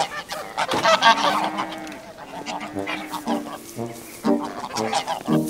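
Geese on a farm honk loudly and repeatedly close by, a flurry of nasal calls with a German-speaking voice talking briefly among them.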